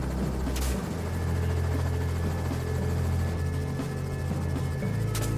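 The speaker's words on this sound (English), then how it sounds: "They call helicopters loud and slow, but out here, they're perfect." A helicopter drones steadily and loudly overhead, its rotor thump continuous throughout with no voices.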